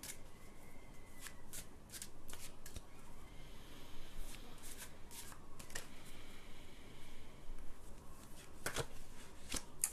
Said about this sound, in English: So Megan, just getting a card for you now.